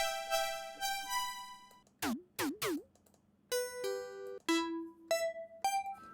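A dreamy music box tone played on a software instrument, a sequence of clear bell-like plucked notes that ring and fade, with a few sharp gliding blips in the middle and a faint hum underneath.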